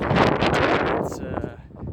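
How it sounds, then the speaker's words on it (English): Strong, cold gusting wind buffets the microphone with a broad rumbling roar, steady and loud throughout, easing slightly toward the end. "it is quite windy and quite cold."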